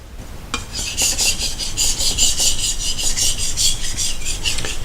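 A knife scrapes rhythmically across a Japanese natural whetstone in steady, rasping back-and-forth strokes, close and fairly loud, with no voices.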